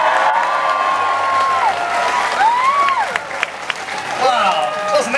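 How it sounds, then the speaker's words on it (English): An audience at a seal show cheers, whoops and applauds loudly and continuously, with children's shouts mixed into the crowd noise and some louder claps near the end. "So how about starting off with a big roar for Troy"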